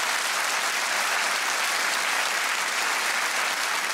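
Steady, dense applause from an audience fills the whole stretch, loud and continuous with no pauses or voices standing out.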